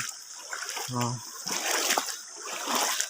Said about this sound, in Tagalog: Tignan nyo to, ang ilog namin, napakalinis yan.